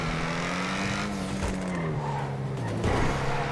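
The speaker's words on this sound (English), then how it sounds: "let's just enjoy the sights and the sounds and the pops from the exhaust" Ocelot Jugular sports car from GTA, modelled on the Jaguar XE SV Project 8, driving with a steady engine drone that shifts pitch, plus scattered exhaust pops and a faint tire squeal, loud and close throughout.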